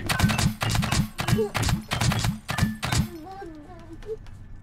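In the Scrap Mechanic game, a door opens and closes by itself in a fast run of repeated mechanical thunks with a clattering rhythm, and then a voice speaks briefly as the banging stops.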